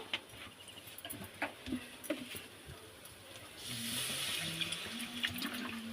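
Water poured into khesari dal in a pan: soft clinks and stirring give way to a steady splashing hiss of liquid running in during the second half, close and moderate.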